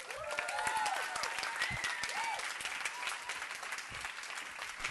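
An audience at the Muslim Tech Fest 2024 applauds after a talk on building MVPs, with steady dense clapping throughout and a few whistles and cheers rising above it.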